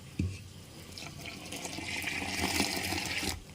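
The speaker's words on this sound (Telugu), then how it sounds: "మళ్ళీ ఇదే లోటాడుతో నీళ్ళు పోసుకొని కలుపుకోవాలి." Water is poured from a lota into flour being mixed for pindi vadiyalu, a soft splash that swells into a steady, fairly quiet gurgling pour for a couple of seconds before stopping.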